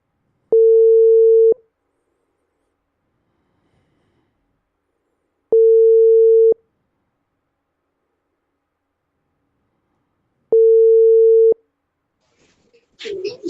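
Telephone ringing tone heard while calling: three evenly spaced steady beeps, each about a second long with long silent gaps between, clear and alone, followed by a brief faint voice at the very end.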